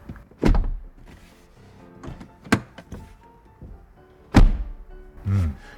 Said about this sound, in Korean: 이 위쪽에서 손잡이를 잡고 문을 닫을 때